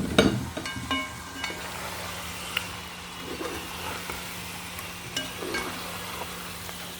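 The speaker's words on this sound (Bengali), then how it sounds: "বেগুন ভাজলে তেল ওঠে।" Fried eggplant and fried potato pieces go into hot oil with spice mix and are stirred, a faint sizzle with light scraping and clinks in a quiet kitchen.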